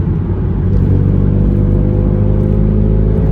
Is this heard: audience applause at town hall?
no